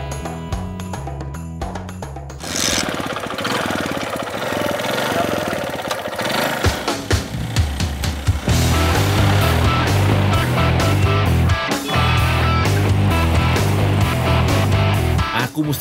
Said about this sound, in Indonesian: Biar lebih cepat, aku akan antar entok pakai motor aja.